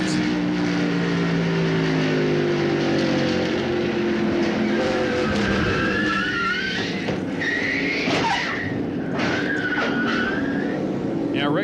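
NASCAR stock cars at the 1995 Mountain Dew Southern 500 roar down into turn one, engines droning and shifting pitch through a crash, with squealing tires and a commentator talking over the racing.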